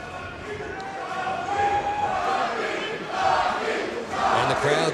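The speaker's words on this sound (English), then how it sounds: "And the crowd's calling for Crowd's champion." A fight crowd at a PF6 mixed martial arts event roars and chants for its favourite fighter, a steady, dense wall of distant voices that swells in places, with an announcer talking over it.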